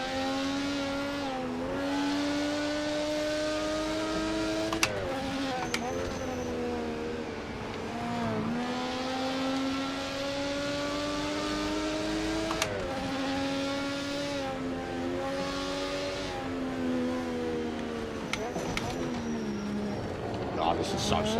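Race car engines, including a Camaro, running three wide into turn one at Zolder in a racing video game, a steady droning engine note rising and falling through gear shifts, with people talking over it.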